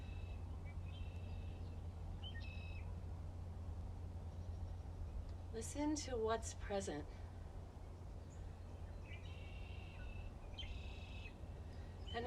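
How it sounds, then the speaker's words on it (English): Outdoor birds call in faint, scattered chirps at the start and again near the end, over a steady low background hum, while a voice speaks briefly in the middle. "you hear the birds"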